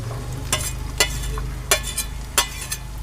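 Chopped onion and green chilli pieces dropped into hot oil over a low gas flame, a close sizzle with several sharp scraping stirs of a spoon against the pan, no voices.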